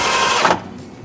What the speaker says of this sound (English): drive these two screws in